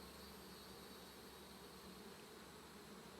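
Honey bees hum inside an open hive while a frame is inspected, a faint, steady, dense buzzing drone with no breaks and no talk.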